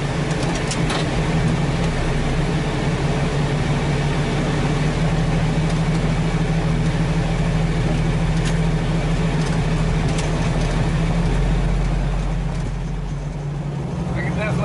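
A Jeep drives in icy cold weather, its engine producing a steady, loud low rumble and road drone that holds without a break from start to finish.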